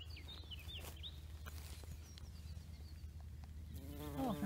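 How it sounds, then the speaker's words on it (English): A red-tailed bumblebee queen buzzes steadily in an outdoor meadow of snakeshead fritillaries, a low continuous drone with faint birdsong in the background, swelling slightly louder near the end. "Can you see that red-tailed bumblebee queen?"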